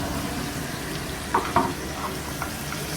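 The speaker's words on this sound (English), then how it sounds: "We'll just baste a little bit longer." A steak basted in a frying pan gives a low, steady sizzle, broken by a couple of brief louder spoon scrapes or splashes near the middle.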